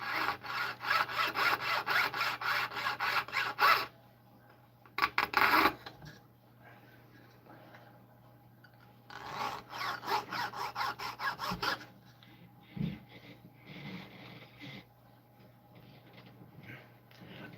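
A hand saw cuts silver in a silversmithing shop, with bursts of rapid rasping strokes separated by pauses, near and fairly quiet, with light clinks and handling noises in between.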